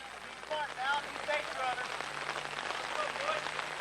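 Heavy rain falls steadily during a high school baseball game as a broad, even hiss. Faint voices from the crowd drift in the distance.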